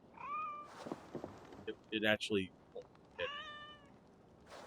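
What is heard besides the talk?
cat meowing in the video game Assassin's Creed Valhalla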